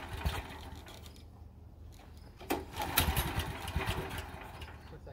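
A Honda GX340 engine on a budget go-kart runs close by, a low steady drone that swells and roughens midway as the throttle is opened, then keeps churning at higher revs.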